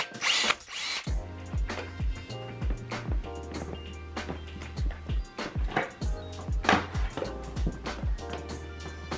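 A power drill bores through a plastic panel to widen a hole for speaker wire in a home theater build, running in repeated short bursts with a low motor hum, close and fairly loud, with no one talking.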